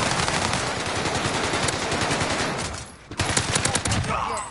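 Video game gunfire in a sustained loud rapid-fire stream of close automatic shots, with a brief break before another burst resumes.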